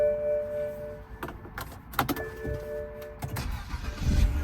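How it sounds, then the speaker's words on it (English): A 2009-2013 BMW 328i sedan is started close by, with keys jangling and a few clicks before the engine cranks and catches near the end, its rumble rising at the close. "I'm gonna go ahead and start the car."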